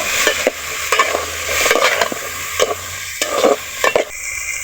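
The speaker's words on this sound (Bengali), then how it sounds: "হলুদ গুঁড়ো ছুরির সাহায্যে এভাবে দুই মিনিট ভালোভাবে নাড়াচাড়া করব" Potatoes with salt and turmeric powder tossed in a pan, rhythmic scraping and stirring strokes over a low sizzle, close and fairly loud.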